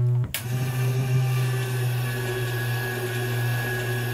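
A motorized TV screen lift raising the screen inside a converted truck-trailer tiny house, a steady electric motor whine and hum after a brief click at the start, continuous and fairly close.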